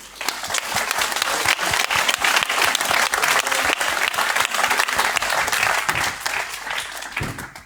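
Audience applause at a business conference at the Foire de Savoie after four speakers' testimonies, a loud sustained burst of many hands clapping that fades slightly at the end.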